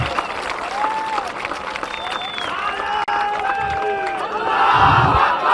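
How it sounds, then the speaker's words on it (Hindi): A crowd at a political speech applauds and cheers loudly and continuously, with shouting voices woven through the clapping and the noise swelling toward the end. "तो एक जोरदार तालियां अपने खुद के लिए बजा"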